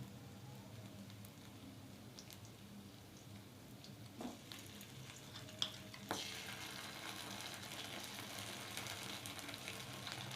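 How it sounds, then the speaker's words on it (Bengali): Potatoes fry in a pan while spices are added one by one. A soft, continuous sizzle carries a few light stirring clicks, then swells louder and hissier partway through. "আলুগুলো লাল লাল করে ভাজা হয়ে গেছে, এবারে আমি মশলাগুলো দিয়ে দিচ্ছি একে একে।"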